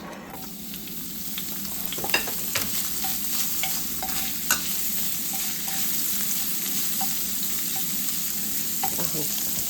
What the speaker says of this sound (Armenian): հիմա տապակում եմ կտրտած բեյկոնը